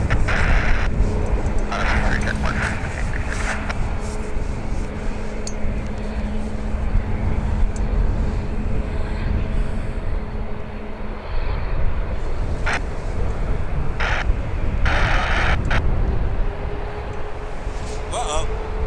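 An Air Canada airliner takes off at Toronto Pearson Airport at night, heard as a broad, steady jet roar from a distance. Radio chatter and talk come and go over it.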